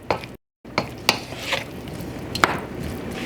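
Pad thai noodles are stirred in a pan over low heat, giving a few soft scraping and clattering strokes against a faint background sizzle, close and quiet.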